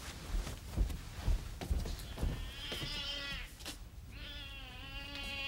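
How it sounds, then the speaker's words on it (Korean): A cat meows twice in long, wavering cries, heard at a moderate distance after some soft thumps and shuffling. "웬 고양이에요"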